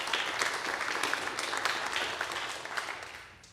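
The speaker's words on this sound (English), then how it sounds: "give yourselves a round of applause for that" A church congregation applauding, a short burst of dense clapping that is fairly faint and distant in a large room and tapers off at the end.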